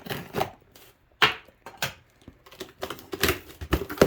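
A box cutter slicing open a cardboard package, a series of close, sharp scraping cuts and clicks in irregular bursts with short pauses between strokes.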